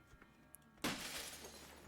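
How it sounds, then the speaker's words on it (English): Glass smashes in a video game home-invasion scene: a sudden loud crash with a bright shattering burst at the midpoint, followed by a sustained spray of falling shards and debris, preceded by faint small ticks. "You may have heard the glass smash."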